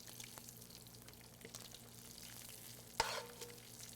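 Crispy bacon frying in a pan, a faint steady sizzle and crackle with a brief louder clatter near the end as the pan is moved off the heat.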